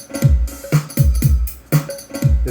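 A Roland TR-8S drum machine pattern triggered over MIDI from a Roland JD-XI, loud punchy kicks with snare and hi-hat hits in a steady repeating groove, close and alone.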